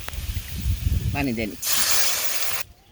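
Water is poured into a hot pan of fried onions and makes a sudden loud hiss that lasts about a second, then cuts off. Someone talks just before it.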